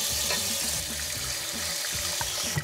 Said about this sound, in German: Das ist der Spender hier aus meinem wundervollen Wasserhahn.